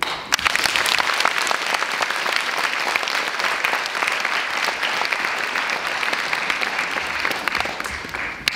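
Audience at a Christmas celebration claps continuously for over eight seconds, a full, even roar of applause from a sizable crowd in a hall with no talking over it.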